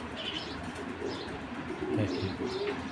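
Racer pigeons coo in a low, steady murmur with soft wing flaps, close by in a loft, several birds overlapping without pause.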